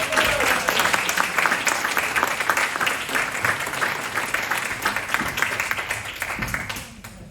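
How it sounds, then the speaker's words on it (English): Audience applause at a community Citizen of the Year award event: full, continuous clapping from a sizeable crowd, loud and even throughout, tapering only in the final moment. "Please give them a round of applause."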